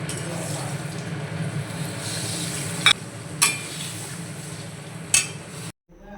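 Shrimp fry with pointed gourd in a pan, giving a steady close sizzle while a utensil stirs and scrapes. A few sharp metallic clinks break through before the sound cuts off abruptly.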